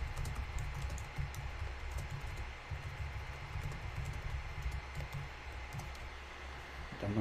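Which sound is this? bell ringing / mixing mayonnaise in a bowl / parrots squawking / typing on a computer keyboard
typing on a computer keyboard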